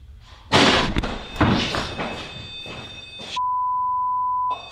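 A loud thud like a door slamming inside a house at night, followed by a couple more heavy knocks amid clatter, then a steady electronic beep tone from a REM pod.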